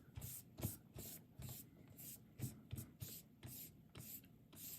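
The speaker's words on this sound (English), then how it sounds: "I'm going to firstly take this kneadable eraser and just kind of take off some of this" A kneadable eraser rubs pencil lead off paper in quick, repeated back-and-forth strokes, making a soft, close scuffing that pulses in a steady rhythm with no voices.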